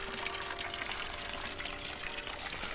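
Steady running water splashes and hisses continuously from a 257-year-old public water fountain in Fountain Park, Schaefferstown, Pennsylvania, with a faint hum underneath and no talking.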